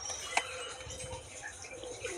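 Large pigeons coo softly at close range in a loft, with a few low murmuring calls and a brief sharp chirp or flutter, all fairly quiet.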